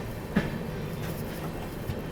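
The Shiv Ganga SF Express passenger train rolls slowly, heard from inside as a steady low rumble with faint periodic wheel clicks and a brief clunk near the start.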